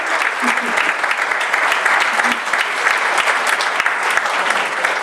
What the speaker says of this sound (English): stand up and get your applause